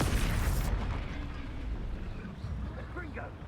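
An Incendio fire spell goes off in Hogwarts Legacy as a loud burst that roars at once and then trails into a softer rumbling whoosh, with a voice speaking faintly near the end.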